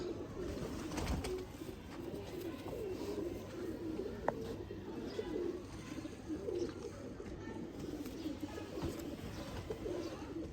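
Sialkoti breeder pigeons coo in a steady low murmur at moderate distance, with a continuous bed of background noise and a brief sharp click midway.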